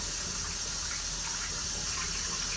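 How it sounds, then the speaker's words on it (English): Hot water runs steadily from a tap in a sport hideout's washroom, a constant close hiss and gush of flowing water with no voices over it. "Okay, so I turned it on, I've got hot water going."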